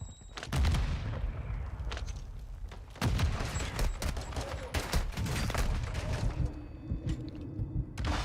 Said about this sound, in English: I stopped shooting because I was very confident that was enough shots for him to go down.